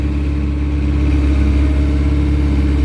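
An engine being given gas on equipment used while preparing to crane-lift the Bluebird building, a steady loud low rumble that holds a rising, sustained revving tone throughout with no talk.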